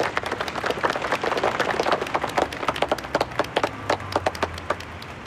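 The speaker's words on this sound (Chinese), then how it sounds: "大家鼓掌欢迎。" A group of firefighters at a fire station claps to welcome a new deputy station chief, dense applause at first that thins into scattered individual claps, close and moderately loud with no talk.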